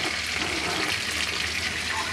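Tilapia fish frying in hot oil, a continuous dense sizzle and bubbling heard close up without a break.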